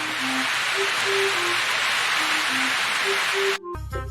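Steady rain hiss in a Hindi moral story, filling the scene with a constant broadband wash while a faint, low repeating tone sounds beneath it, then cutting off abruptly near the end as music begins.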